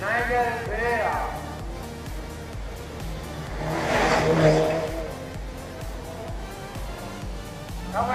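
A race car heads to the finishing line, its engine a steady drone that swells to a louder pass midway, heard under continuous commentator talk.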